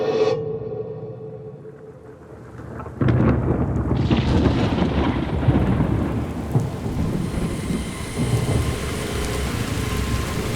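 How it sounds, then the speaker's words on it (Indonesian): Light rain falls at night on a lonely road during a motorcycle tour, a steady broadband patter that swells louder after a few seconds and continues with low rumbling, with no voices. "terus hujan rintik-rintik juga."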